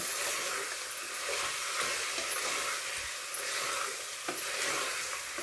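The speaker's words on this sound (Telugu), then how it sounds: "ఆ 3 టమాటాలు అందులో వేసుకొని మళ్ళీ కలుపుకోవాలి మంచిగా" Chopped tomatoes are stirred into a mutton and bottle gourd curry in a pan, giving a soft, steady sizzle and hiss with occasional quiet scrapes of the spoon.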